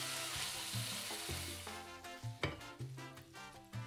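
Pork and bamboo shoots sizzle and fry in a pan with rice wine and a little sugar, a steady loud hiss broken by clattering stirs and scrapes of the spatula.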